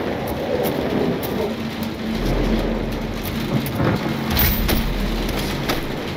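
Steady rain with low rolling rumbles of thunder, a continuous wash of drops and a couple of deep swells of rumble, moderately loud with no voices.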